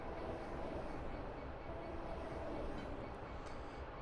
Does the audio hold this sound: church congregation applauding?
no